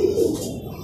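A racing pigeon arriving at its home loft at the end of a six-lap race, giving a short, close cooing call that stands alone.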